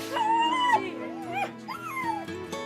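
Sled dogs at kennels in snowy Balan, northeast Romania, whimper and yip in a rising, wavering chorus of high, tonal whines, close and continuous, with a few short yelps breaking through.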